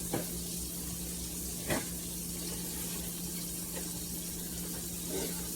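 A venison burger frying in a hot skillet makes a low, steady sizzle under a constant hum, with a few soft clicks or shifts.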